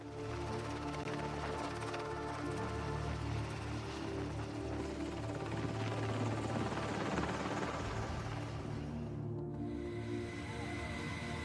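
A helicopter drones steadily, its rotor chopping in a constant, even roar that fills the whole stretch without pause.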